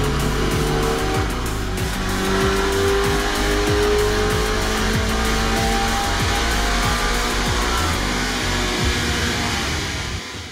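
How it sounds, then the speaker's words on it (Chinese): An automatic Subaru BRZ runs hard on a chassis dynamometer, its engine droning loudly and steadily as the revs climb through a long pull, with whining harmonics and no talking. "我们现在呢就先把自排 BRZ 呢给开上马力机呢来进行测试"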